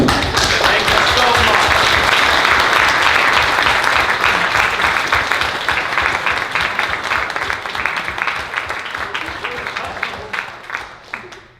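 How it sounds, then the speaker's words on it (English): Loud, sustained applause from a large crowd at a convention's closing ceremony, dense clapping that gradually fades toward the end. "we're going to clap for you"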